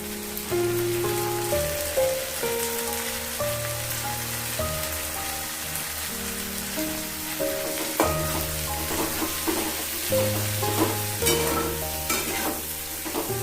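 Capsicum and half-fried onions sizzle steadily in a hot pan while being stirred, with soft scraping throughout and background music playing underneath.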